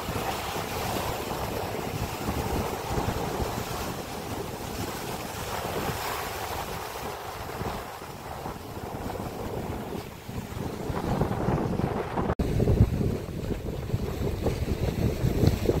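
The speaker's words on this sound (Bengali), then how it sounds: "এখানে ঢেউগুলো একদম বিশাল আকৃতির" Steady roar of surf with continuous wind buffeting the microphone, a loud unbroken wash of waves with no voices.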